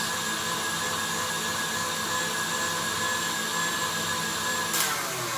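A kitchen mixing machine beats batter for melindros, a steady loud whirring motor hum with constant tonal drone throughout, no talk, ending with a brief bump near the close.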